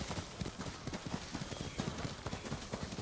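Horse hooves clip-clop at a steady galloping rhythm during riding in the video game Ghost of Tsushima, close and continuous over a wash of wind and ambient game sound.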